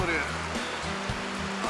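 Sea waves at an Adriatic beach in Rimini, Italy, on a beach flooded after downpours, wash in as a steady, fairly loud broadband roar with a few low rumbling undertones throughout.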